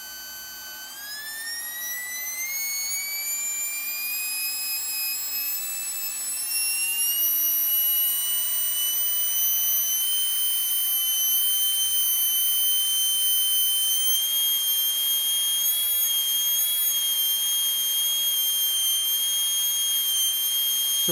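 A small electric motor runs at 5 volts with a steady, loud, high-pitched whine. The pitch climbs during the first seconds and then holds a stable tone alongside its overtones, with no talking.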